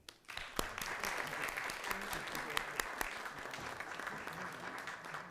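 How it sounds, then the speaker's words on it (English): A round of applause at a school board meeting, many hands clapping steadily at moderate volume for several seconds, with a few sharper individual claps standing out and murmured voices underneath. "Please join me in a round of applause to recognize our special guest and Miss Rebecca Whiteman."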